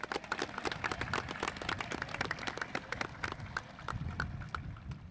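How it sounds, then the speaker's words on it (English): A crowd at a high school graduation ceremony claps for the administrative team, a dense, steady patter of many hands that carries on evenly for several seconds without talk. "so we give them a quick round of applause"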